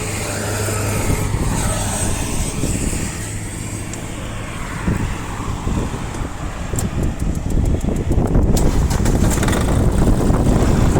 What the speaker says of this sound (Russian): Давайте трактор запускать